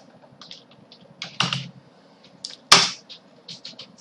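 Scattered keystrokes on a computer keyboard entering a Linux network command, a few light taps and a couple of sharper louder presses, close and alone with no talking.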